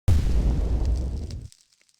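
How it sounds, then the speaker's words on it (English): A layered cinematic explosion built from the Alderaan planet-destruction blast, an impact hit and lingering fire crackle: one loud, heavy boom with deep rumble that holds for about a second and a half, then cuts off, leaving faint sparkling crackles. "for the boom, I'll use the sound of Alderaan's demise, combined with an impact sound and a bit of lingering fire for the sparks"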